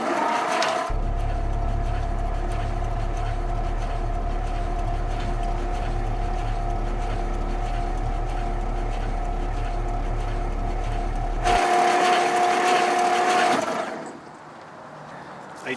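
An old Ford flathead engine, left sitting for 55 years, turns over on its starter in a steady mechanical churn that runs about eleven seconds and then stops.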